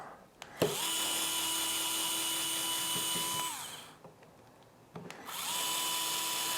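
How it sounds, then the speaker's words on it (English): Electric screwdriver backing screws out of a skateboard wheel, two bursts of steady high motor whine separated by a short pause, close and loud, no talking. "I have my electric screwdriver"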